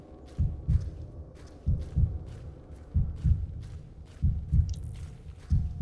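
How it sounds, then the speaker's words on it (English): Paired low thumps repeat steadily, like a close, loud heartbeat thudding in a slow double rhythm over several cycles. "I can hear the heart beating"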